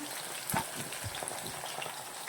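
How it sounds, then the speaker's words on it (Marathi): Potatoes sauté in ghee with a soft, even sizzle, a few sharp pops and crackles breaking through, and no speech. "आपल्याला बटाटा परतून घ्यायचा आहे साजूक तुपात"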